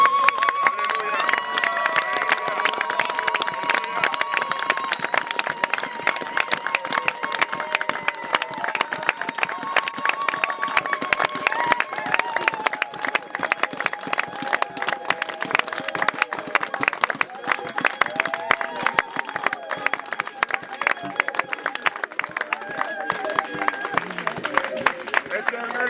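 A church congregation acclaiming and applauding at a pastor's funeral, steady rhythmic clapping and cheering voices from a large crowd with sustained singing tones, continuing loudly throughout.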